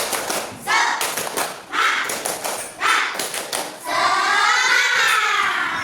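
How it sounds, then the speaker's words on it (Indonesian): An elementary school class claps in quick rhythmic bursts, a spirit clap, several rounds in a row, then the children shout together loudly at the end. "Sekarang kita tepuk semangat."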